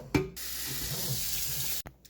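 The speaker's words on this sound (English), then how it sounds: "Filled it up with water." Tap water rushes steadily into a pot for over a second, framed by a knock at the start and clunks as it shuts off.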